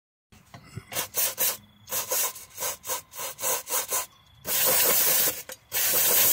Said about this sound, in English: now I'm going to hit that with some contact cleaner and put some solder in there